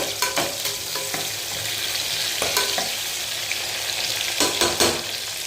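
Fenugreek seeds and asafoetida fry in hot oil in a pan for a South Indian brinjal gosu, a steady loud sizzle with a few scrapes of stirring on top, no voices.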